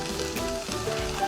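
Paneer frying in a pan gives a soft, close sizzle with faint stirring scrapes, brief and steady, with no voices.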